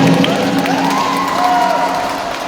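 Applause and cheering from a live audience at a semifinal competition round, a steady, dense crowd roar that fills the whole stretch without letting up.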